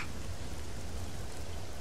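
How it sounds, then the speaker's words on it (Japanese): Heavy rain falls steadily in the game Xenoblade Chronicles 2, a dense, even wash of noise holding at a constant level with no distinct drops, claps or breaks, and no voices over it. "雨が強くなってきましたし"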